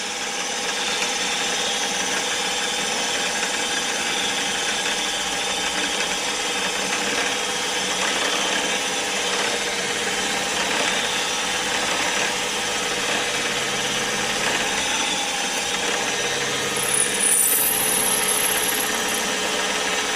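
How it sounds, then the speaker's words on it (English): Steady, even mechanical whir of a milling machine running continuously, a constant hum without breaks, moderately loud and close. "Quiet little mill too."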